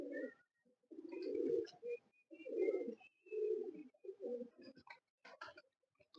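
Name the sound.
pigeon cooing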